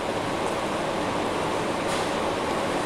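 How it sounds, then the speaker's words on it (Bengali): A train running fast over the Padma bridge, heard from inside as a dense, steady roaring rush with no breaks, loud and close throughout. "ট্রেন চলছে খুব দ্রুত গতিতে"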